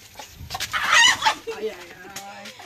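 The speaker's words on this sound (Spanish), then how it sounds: "Ahí miramos a Carmen por la punta izquierda agarrando la gallina." A hen squawks loudly in a short burst as a woman grabs her at a house construction site, then settles into lower clucks; faint voices are present in the background.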